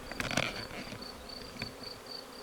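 A honeybee swarm from the first swarm of the 2025 season buzzes as it enters a hive. The hum is steady and fairly faint, with a few soft knocks early on and no voices.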